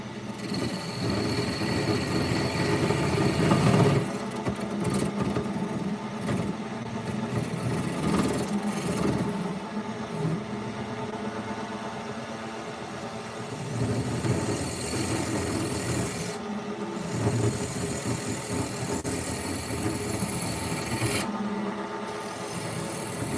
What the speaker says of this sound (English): I guess we're going to try it with our hollowing tool, see if we can do it.